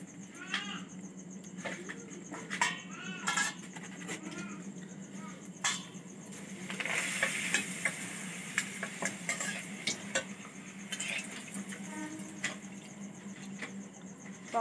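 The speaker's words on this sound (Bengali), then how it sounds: "পকোড়ার তেলেই কিন্তু পাঁপড়গুলো সব ভেজে নেব।" Papads frying in hot oil left over from cabbage pakoras, a steady close sizzle with light stirring clicks throughout and a brief faint animal bleat in the background.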